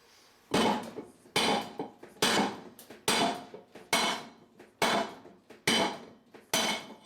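Eight light, evenly paced metallic hammer taps strike the back side of a bearing on a Maytag Neptune washing machine under repair, close and clear with a short ring after each hit.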